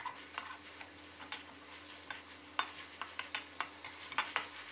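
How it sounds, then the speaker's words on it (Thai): Minced pork stir-fried in a pan with seasoning sauce, oyster sauce and sugar, a soft steady sizzle with a spatula scraping and tapping at irregular intervals, fairly quiet and close. "แล้วก็ให้เราผัดคลุกเคล้าให้เข้ากันนะครับ"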